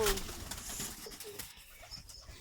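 A tame young bird sings in short, soft cooing and chirping calls close by, set against faint background noise with no speech.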